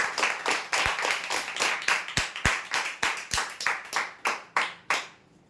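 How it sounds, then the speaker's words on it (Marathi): Applause at a prize draw: a small group claps in uneven bursts, sharp hand claps repeating for several seconds before trailing off into quiet. "टीव्ही टेबल प्लायसाठी जोरदार टाळ्या होऊ द्यासाठी"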